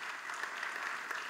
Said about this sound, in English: Give him a round of applause, another round of applause.